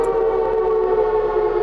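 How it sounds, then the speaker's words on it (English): A bomb siren in the horror video game Security Booth holds a loud, steady wail that sustains evenly throughout, with no voices over it. "Bomb siren"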